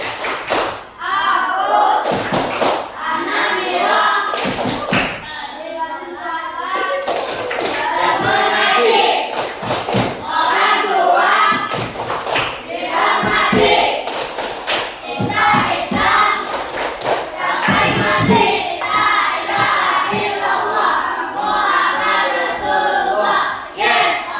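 A group of children performing the Anamiro success clap routine in an Islamic classroom lesson, loud rhythmic bursts of hand claps and thumps in patterned sequences, mixed with chanting voices and a teacher speaking between the claps.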